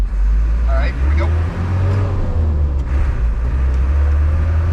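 A Mitsubishi Canter JDM truck labors uphill in first gear, its engine a loud, steady low rumble with the drone holding close throughout; voices are heard briefly over the engine.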